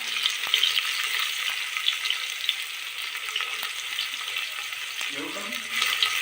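Onion and garlic fry in hot oil with a steady close sizzle, broken by a few faint stirring scrapes and clinks as the pan is worked, with no talking.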